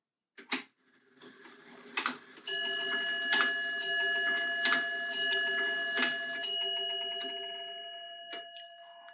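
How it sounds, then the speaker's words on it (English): A home-built longcase clock strikes its bell five times at a steady, unhurried pace. Each ringing stroke is close and clear and decays slowly, with a few faint ticks before and after and no talking. "And one of the things you can hear, the chime on this, it came out well. So let's take a listen to this bell."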